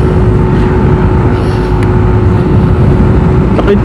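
A large truck overtaking on the road, heard as a loud continuous engine drone and road rumble from a riding motorcycle, steady and close with a constant tonal whine.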